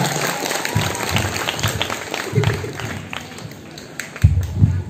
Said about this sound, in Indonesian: Tepuk tangan untuk bangsa kita